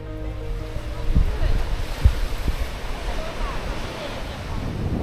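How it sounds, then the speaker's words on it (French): Strong sea wind buffets the microphone at a Japanese beach, a steady low roar with surf washing in and a few gusty thumps, continuous and close throughout. "Il y a beaucoup de vent."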